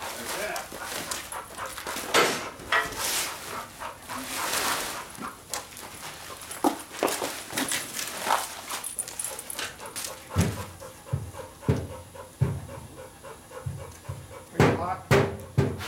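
A shop dog pants hard and rhythmically at close range after hunting a rat, the quick breaths interrupted by a few whimpers while a person talks over it.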